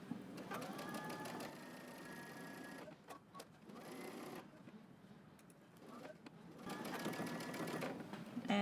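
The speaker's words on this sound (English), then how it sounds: "Continue sewing past your fold." Sewing machine stitching a pants seam, its motor whirring in steady bursts with brief pauses between runs, close and moderately quiet, with no one speaking.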